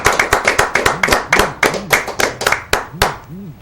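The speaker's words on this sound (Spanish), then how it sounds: "¡Venga las palmas!" Rhythmic hand clapping from several people, steady and fairly quick, with a voice speaking briefly between claps.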